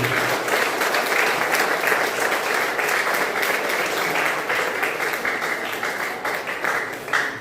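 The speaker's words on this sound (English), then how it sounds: "Big round of applause for Urmi." Steady, dense applause from an audience honoring Urmi, women's coordinator for an NJ Super Kings cricket hub, filling the whole stretch at an even, sustained level with no break.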